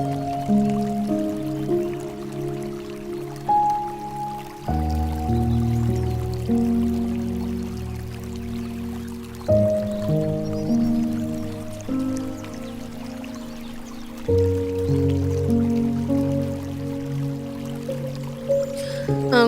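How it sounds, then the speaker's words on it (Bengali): Water pours into a row of bottles for money plants, each filling giving a gurgling tone that climbs steadily in pitch, repeated several times close by with small splashes. "এদিক দিয়ে আমি কিন্তু সব বোতলেই কিন্তু জল ভরে নিতেছি"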